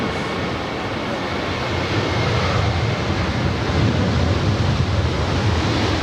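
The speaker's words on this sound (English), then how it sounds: "That was Alaska 817 departing to Honolulu. It's a 10-year-old 737-800." An Alaska Airlines Boeing 737-800, ten years old, departs LAX for Honolulu, heard as a loud, broad, steady jet roar that swells slightly and fills the whole stretch without talk.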